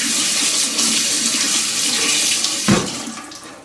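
Tap water runs steadily into a sink during handwashing, a continuous close splash that ends with a brief thud near the close.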